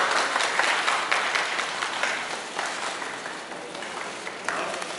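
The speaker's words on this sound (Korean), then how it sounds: "박수 부탁드립니다." Audience applause at a medal unveiling ceremony for the K-pop group EXO, a steady wash of clapping from a crowd that continues for the whole stretch at moderate level.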